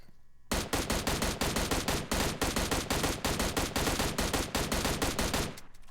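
An M16 rifle in PUBG Mobile empties a full magazine in one sustained automatic burst of rapid, evenly spaced shots, loud and close, with no talk over it.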